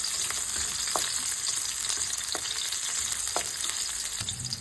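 Ginger, garlic and Tagalog onion sauté in a hot pan, giving a steady broadband sizzle with a few faint spatula taps and scrapes scattered through, no voices.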